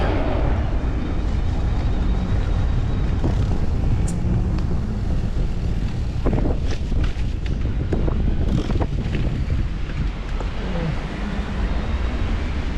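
April wind in Crimea buffets the microphone with a loud, continuous low roar and gusty rumble that lasts the whole stretch, with no voices over it.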